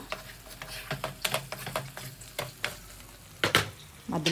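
Prawns frying in a pan are stirred with repeated scrapes and clinks over a steady sizzle, close and moderately loud with no talking.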